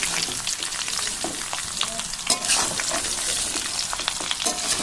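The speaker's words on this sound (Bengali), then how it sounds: "তাই আমাকে আমগুলো দিয়ে ভালো করে বেশ একটু নাড়াচাড়া দিয়ে নিতে হবে" Mango pieces for pickle fry in a small wok with a constant, close sizzle and frequent clattering strokes as they are stirred and turned over.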